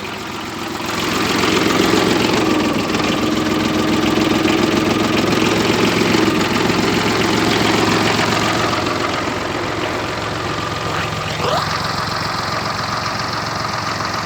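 A four-wheel-drive tractor with a front loader idles nearby with a steady, loud, rumbling engine note that swells slightly and then settles, with no talk over it.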